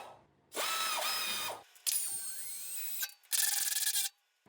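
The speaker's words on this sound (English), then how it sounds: "Decided to bring out the pneumatic wrench and just help me get those 2 bolts in." A pneumatic wrench runs in three loud, sustained bursts, whirring and rattling as it drives two bolts into a SawStop table saw being assembled, with short silent gaps between the bursts.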